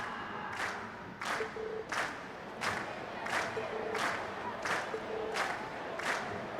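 Crowd in the Trails of Cold Steel video game cheering after a performance, a faint, steady background roar of voices broken by rhythmic bursts of clapping about every half second.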